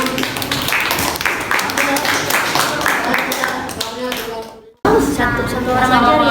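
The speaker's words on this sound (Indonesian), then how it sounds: "beri tepuk tangan untuk kelompok 6" A classroom group of teachers applauds group 6, a dense burst of hand clapping close and loud that cuts off abruptly, then resumes with talking over it.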